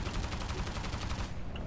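Rapid video game gunfire aimed at the player, a steady stream of quick shots with a minigun or machine guns in play, continuous and fairly loud for a short burst.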